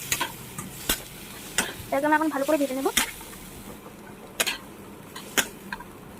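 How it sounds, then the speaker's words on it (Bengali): Chopped potatoes, onion and chilli for chicken chowmein sizzle steadily in a pan as a utensil scrapes and stirs them in sharp, repeated strokes, with a brief voice in the middle. "তো এটাকে আমরা এখন ভালো করে ভেজে নেবো"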